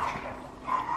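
Puppies yelp and bark in short bursts at close range in a kitchen, high-pitched and lively, with a steady room hum underneath.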